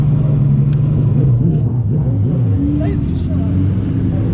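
A wingless sprint race car at a speedway accelerates with a loud, continuous engine roar and a pitch that bends with the throttle. Crowd noise and talk sit beneath it.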